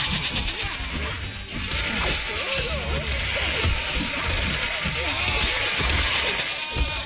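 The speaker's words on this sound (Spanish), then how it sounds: "¡Más ovejitas!" Sheep bleat over repeated smashing thuds in the Overlord video game, a dense, steady mix of animal cries and impacts with no talking.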